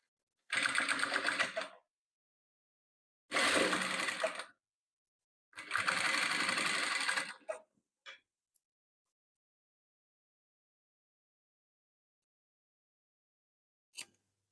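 A sewing machine stitches patchwork quilt squares in three close, even bursts of rapid mechanical whirring separated by pauses, followed by a few faint clicks and a lone tick near the end.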